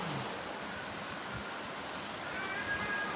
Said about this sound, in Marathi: पाऊस पुन्हा जबरदस्त हिट पाऊस पाऊस सुरू झाला आहे